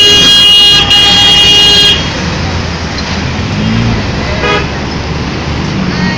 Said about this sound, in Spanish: Y el riquísimo tráfico.